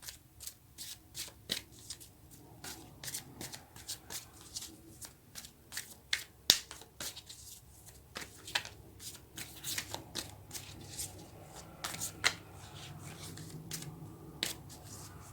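Tarot cards are shuffled by hand in quick, rustling, slapping bursts that are close and fairly soft, running steadily without any talk.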